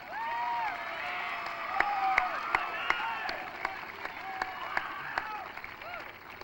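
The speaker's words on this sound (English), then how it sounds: "Could I please have a round of applause for these great individuals?" A graduation audience at a 2002 high school commencement applauds steadily, a dense wash of clapping with a few sharper close claps, while speech carries on over it.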